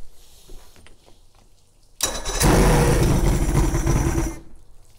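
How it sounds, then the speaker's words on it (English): An outboard motor cranks and catches, roaring up loudly and running steadily for a couple of seconds before cutting off, with quieter background noise before it. "Then we're actually gonna fire it up because you just wanna know the engine runs properly."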